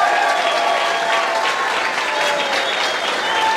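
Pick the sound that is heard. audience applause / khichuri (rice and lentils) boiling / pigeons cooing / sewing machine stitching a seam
audience applause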